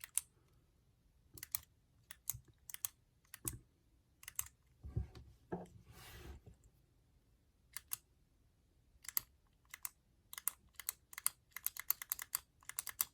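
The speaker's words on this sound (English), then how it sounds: "Here's the click." A Zebra Blen ballpoint pen being clicked repeatedly, crisp close clicks in irregular bursts with a brief rustle of handling in the middle.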